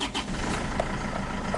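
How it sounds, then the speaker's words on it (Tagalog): An Isuzu Traviz engine with a starting fault and long cranking turns over and catches, settling into a steady nearby engine drone after a brief churn at the start. "tapos pa-start ko na itong makina."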